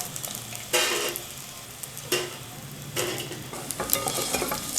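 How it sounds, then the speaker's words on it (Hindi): Edible gum (gond) frying in ghee over a slow flame, a continuous crackling sizzle with several louder bursts of bubbling as pieces puff up, close and steady throughout with no talking. "गोंद जो है अभी सारा फ्राई नहीं हुआ तो घी ख़त्म हो गया"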